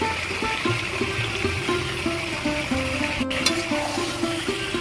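Salted chicken pieces being stirred in a pot, a steady sizzle and wet scraping running continuously, close and even, with a brief sharp clink midway and no talking.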